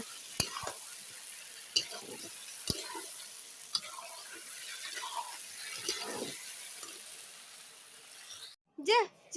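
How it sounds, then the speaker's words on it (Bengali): Potatoes and meat are stirred together in a pan, with soft scraping and occasional knocks against the pan under a faint sizzle, quiet and close, ending in a brief louder burst. "আমি একে একে আলু আর মাংস একসঙ্গে দিয়ে ভালোভাবে এগুলোকে কষিয়ে নেব"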